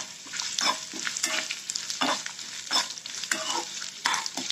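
Steady crackling sizzle of onions frying in hot oil, with intermittent scraping bursts from stirring, close and continuous.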